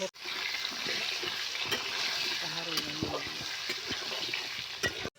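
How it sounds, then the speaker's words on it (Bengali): A steady, bright sizzle of frying in hot oil fills the clip, with a few clinks and a voice speaking faintly underneath. "আলু ভাজা আইয়া গেছে সুন্দর করে নামায় নেবো"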